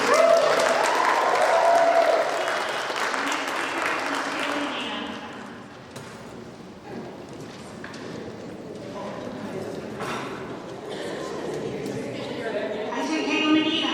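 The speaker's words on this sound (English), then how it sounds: "The clapping." A city council chamber audience applauds during a budget meeting, a dense patter of many hands that starts loud, thins and softens, then picks up again, with voices talking throughout.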